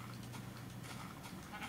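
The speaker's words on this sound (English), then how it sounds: "Oh, and the sheep." A sheep bleating in the Minecraft video game, a short wavering bleat at moderate volume over a steady background.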